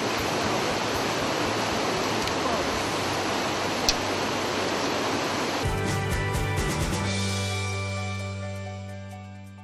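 Karaçay waterfall roaring as a dense, continuous rush of falling water close by, loud throughout before giving way to a lower, steadier rumble that fades out near the end.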